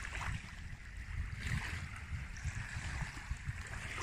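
Waves washing onto a beach form a steady, close rush of surf that swells and eases without a break, with no voices over it.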